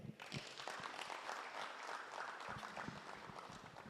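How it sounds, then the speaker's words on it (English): An audience at a public lecture claps together in a sustained round of applause, dense and fairly even throughout, with no speech over it. "A round of applause for the Zimpapers CEO, Mr. William Chikoto"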